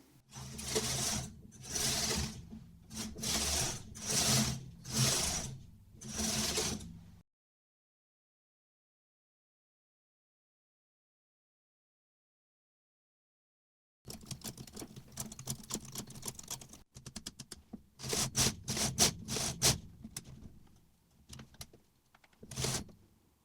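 A knitting machine carriage sliding back and forth across rows of tuck stitch, each pass a loud mechanical whirring rattle, repeated in regular strokes, then a long silence before more passes, some quicker and choppier.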